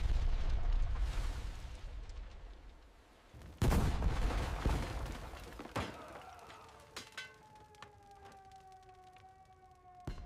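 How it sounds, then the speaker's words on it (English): Loud booming blasts and rumbling explosions from the Pearl Harbor attack, with bursts of gunfire crackling between them, followed by a rising wail like a siren over distant pops. "Explosion struck without warning."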